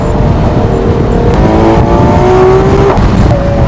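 A Ferrari 12Cilindri Spyder V12 sports car accelerates hard and close up. Its loud, smooth engine note climbs steadily with no voices.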